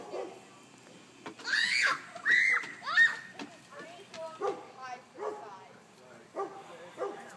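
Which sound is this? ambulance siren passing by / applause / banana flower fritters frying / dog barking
dog barking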